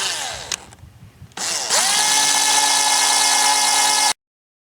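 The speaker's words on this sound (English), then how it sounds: "I'm going to take this board and drill a hole here" A power drill with a 1/8 inch bit whines in a short burst, pauses, then bores steadily through a pallet wood board for a few seconds before stopping abruptly.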